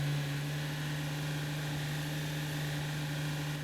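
An articulated tractor in Farming Simulator 15 drones with a steady, loud, even engine hum and a strong low tone that holds without change throughout.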